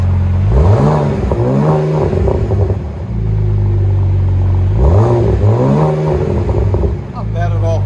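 A 2014 BMW Z4 with a 3.0L inline-six and Vibrant resonators revs close by in two strong, rising sweeps that fall back to a deep burbling idle, with voices talking faintly underneath.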